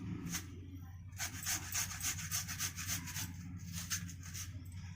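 Fresh cucumber is rubbed against a kitchen grater in quick, rhythmic rasping strokes, close and fairly loud, with a brief pause before the strokes resume at a steady pace.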